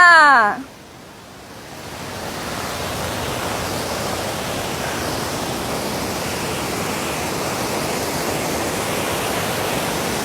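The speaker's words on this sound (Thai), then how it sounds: "เราจะให้ดูบรรยากาศของน้ำตก" Water tumbling down a tier of the nine-tier Namtok Kao Chan falls at Suan Phueng, Ratchaburi: a steady, dense, loud roar that holds without break after a brief voice at the very start.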